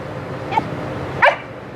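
A puppy lets out two short, sharp barks about three-quarters of a second apart, close by over a low background murmur.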